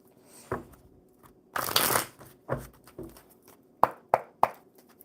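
Oracle cards shuffled by hand in several quick riffling bursts with soft taps between, close and clear, no talking.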